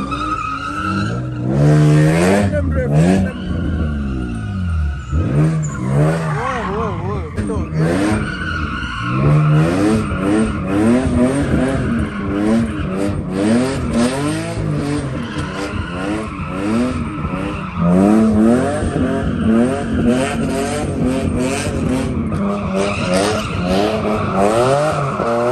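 A Porsche Taycan doing donuts at a Sunday track meetup, its tires squealing and skidding continuously for a long stretch, with the pitch of the squeal wavering as the car circles, loud and close.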